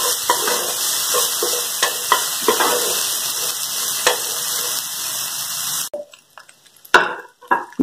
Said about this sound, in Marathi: दोन मिनिट छान भाजून घेऊया